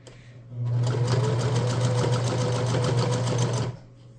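Domestic sewing machine running steadily for about three seconds while stitching a rice-filled neck warmer, its motor hum and rapid needle clatter close and loud, starting and stopping cleanly with no talk.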